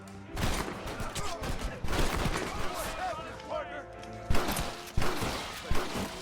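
Gunfire from the Red Dead Redemption video game, with several sharp shots and bursts spread through a busy mix of game effects and music, while a person talks over it.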